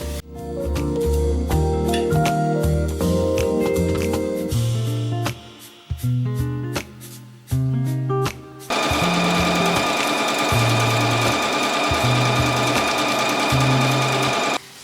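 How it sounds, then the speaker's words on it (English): A sewing machine runs close and loud, stitching a double-folded hem near its inner edge in bursts with brief pauses, then one long steady run at the end; no one talks. "then we're gonna press it and just sew close to the inner edge"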